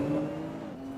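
A Nissan GT-R engine in the Assetto Corsa racing game hums at low revs with a steady, slightly droning tone that shifts pitch near the end, moderately loud and alone.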